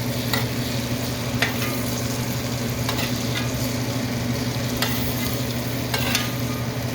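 A steak fries in butter in a pan with a loud, steady sizzle from start to finish, dotted by occasional sharp scraping clicks of stirring or shifting in the pan, and no talking.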